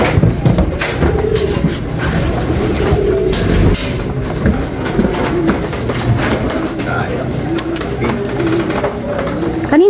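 Racing pigeons come into the loft during a sudden downpour, their cooing and wing flutters dense and continuous against steady rain noise, with people talking nearby throughout.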